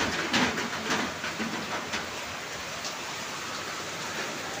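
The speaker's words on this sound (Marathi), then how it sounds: "आतमध्ये पाऊस यायला लागला" Steady rain falling during the monsoon on the hills of Matheran, heard from a building's gallery as a broad, even hiss with faint patters, constant throughout.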